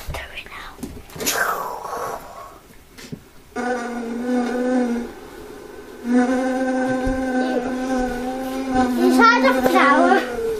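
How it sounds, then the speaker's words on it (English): Buzzing of a busy bee is played back by a Raspberry Pi school project, coming in as steady droning bursts that start and stop, with soft voices heard between them. "you can hear the sound of a busy bee"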